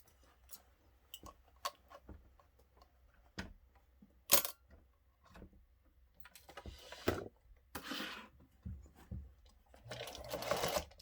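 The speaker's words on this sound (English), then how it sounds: "Now we're going to sew it the 1/2 inch seam allowance. We're going to pray that this will get through this little machine." Small home sewing machine stitching a half-inch seam on a beret, running in short irregular bursts with clicks and pauses between them, close and fairly quiet in a still room.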